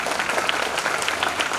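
An audience at a school retirement ceremony breaks into steady, moderately loud clapping, many hands close together throughout, with no talk on top.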